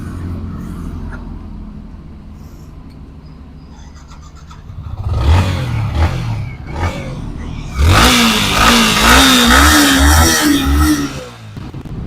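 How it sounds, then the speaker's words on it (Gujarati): A Yamaha MT-15 motorcycle engine runs at a low idle, then revs up louder twice, the second rise strong and sustained before easing off near the end. "અવાજ એકદમ સ્મૂથ છે એન્જિનનો"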